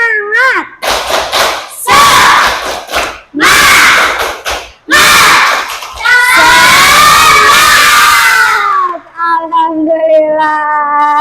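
A classroom of elementary pupils in Indonesia performs the tepuk semangat clapping chant, with loud, close bursts of clapping and shouted syllables in a quick rhythm, ending in a sustained group shout.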